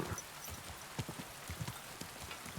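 Horse hooves clip-clop at an easy walking pace in Kingdom Come: Deliverance 2, a dozen or so soft, fairly close hoofbeats in an even rhythm over quiet ambience with light rain.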